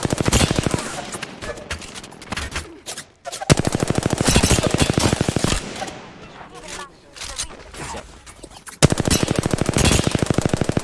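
Rapid automatic gunfire in the Apex Legends video game rattles in long, loud bursts with brief pauses between them, close and dominant throughout, with a player's voice talking over parts of it.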